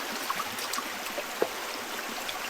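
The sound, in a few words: fast-moving creek water at a hiking trail crossing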